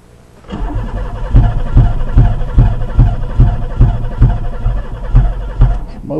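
An Oldsmobile Ciera engine cranks on the starter with a steady rhythmic churning of repeated compression pulses. It runs loud and close for about six seconds without catching.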